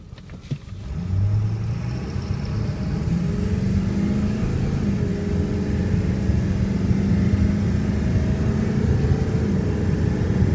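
A 2002 Ford F250 diesel 4x4 pulls away from a standstill, its engine rumbling loud and close and rising as the truck gathers speed, with the drone holding steady for several seconds and no talk.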